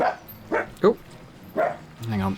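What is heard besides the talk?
dog barking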